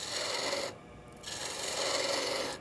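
Spindle detail gouge pares waste wood from a bottle-shaped bottle opener turning on a lathe, a steady close rasping scrape that breaks off briefly and resumes.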